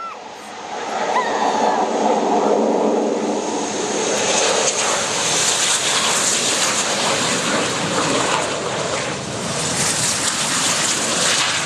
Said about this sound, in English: Those engines now accelerate the aircraft.